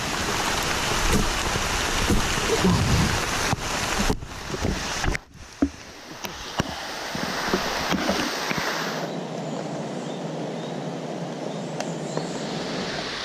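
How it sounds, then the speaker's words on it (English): Heavy rain pours down steadily beside a small stream in the wilderness, a dense continuous hiss that thins and softens partway through, with no clear thunder; loud and close throughout, no talking. "it's just downpouring again"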